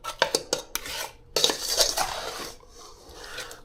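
A utensil mixes salmon marinade in a bowl, breaking up chunks of sugar: a quick run of sharp metal clinks, then a longer scraping stir that fades to a faint rustle, with no talk.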